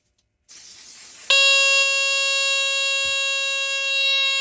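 A BRK 77R smoke alarm, triggered by smoke spray, starts after a brief hiss and keeps sounding as a loud, steady high-pitched tone.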